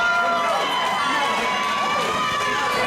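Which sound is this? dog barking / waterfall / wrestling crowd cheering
wrestling crowd cheering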